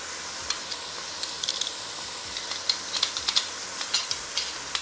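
Garlic hits hot oil in a pot of chicken tortilla soup, giving a faint steady sizzle with scattered small crackles and ticks throughout, no talking.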